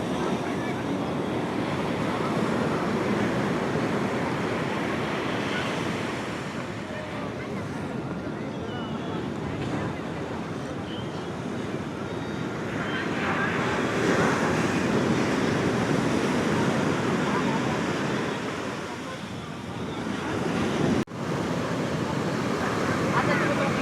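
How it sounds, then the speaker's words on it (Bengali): Ocean surf breaking on Puri beach at Swargadwar on a rainy morning, a steady, full roar of waves with wind buffeting the microphone throughout. "সমুদ্রের জল কিছুটা বেড়েছে"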